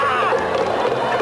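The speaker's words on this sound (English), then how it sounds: "the fans really go berserk" A crowd of Hanshin Tigers baseball fans celebrating in the streets after a Japan Series win, a dense continuous roar of cheering and shouting voices, loud and unbroken.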